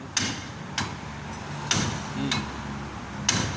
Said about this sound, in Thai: เอาค้อนตีไปค้อนใหญ่ตีเลยทีเดียว